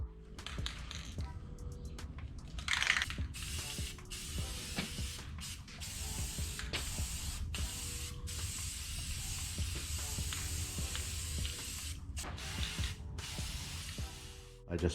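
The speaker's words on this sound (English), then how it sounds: "I'm gonna spray this down with some oil-based enamel" A steady hiss of an aerosol can spraying oil-based enamel runs almost continuously, broken by brief pauses, close up and fairly loud.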